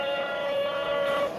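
A child vocally imitates a train whistle at an outdoor antique market in Çayyolu, holding one steady, sustained whistling tone that stays close and constant before dropping away at the end.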